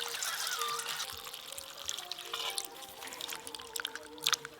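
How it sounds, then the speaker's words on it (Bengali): Water poured over cut raw mangoes with a little salt, for a village-style sweet-sour-spicy mango jelly pickle: a soft, steady trickle and splash up close, quiet, ending in a few louder drips and splashes. "আবার জল দিয়ে দেব।"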